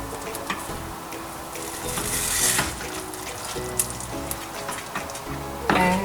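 Malai kofta gravy stirred in a pan, with a soft wet bubbling sizzle and a spoon scraping and clinking against the metal in uneven strokes, close and moderately loud.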